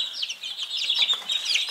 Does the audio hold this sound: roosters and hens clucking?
yes